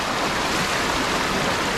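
Dhanagar waterfall near Badlapur, a loud, steady rush of stream water flowing close by, continuous and unbroken in a brief stretch with no talk.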